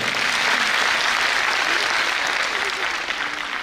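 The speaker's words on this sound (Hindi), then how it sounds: "जोरदार ताली बजाइए थोड़ा।" Loud, sustained applause from a large audience at a Brahma Kumaris dedication ceremony in a hall, a dense steady wash of clapping that thins slightly toward the end, with a voice briefly audible beneath it.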